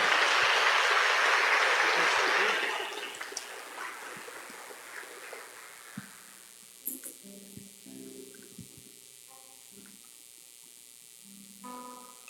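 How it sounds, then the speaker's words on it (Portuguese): Congregation applause during a Catholic Mass in a parish church, loud and dense for about three seconds, then fading quickly into a quiet room with scattered small sounds and a faint voice. "A salva de palmas para ela"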